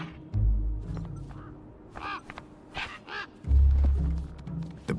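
A bird in the video game Beyond a Steel Sky caws two or three times in harsh bursts over a low rumbling ambience, fairly close, with no talking.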